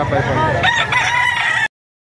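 A rooster crows loudly and close by at a busy chicken market in Lipa, Batangas, one long strained call that cuts off abruptly.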